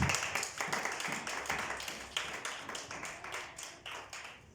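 A church congregation at a tabernacle service claps in a lively, roughly steady rhythm, many hands beating together close and loud, with no speech over it.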